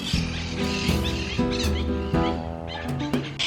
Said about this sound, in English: These parrots are so noisy.